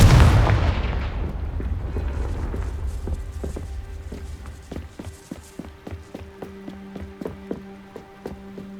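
The Confringo blasting spell in the Hogwarts Legacy video game gives a loud burst at the start that fades into a rumble, followed by a run of rhythmic thuds like rapid footsteps.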